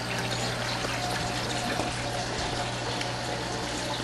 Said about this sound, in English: A little pump in there does provide some good flow.